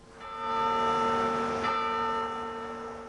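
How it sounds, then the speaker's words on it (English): Church bells rung across western New York towns in celebration, sustained overlapping bell tones swelling in after a moment and holding steady, loud and ringing with no voices. "Tonight, all over western New York State, they rang the church bells."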